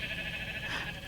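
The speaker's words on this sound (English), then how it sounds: "Oh, pink sheep." Sheep bleating in a movie trailer, one sustained, wavering nasal bleat over a dense background of music and sound effects.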